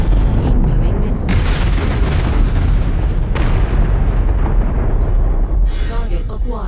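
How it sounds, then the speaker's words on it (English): Missile impacts and explosions from the mech combat game MechWarrior 5, heavy continuous booming and rumbling blasts that fill the whole stretch, loud and close, with radio-style voice callouts layered over the top. "Incoming missile."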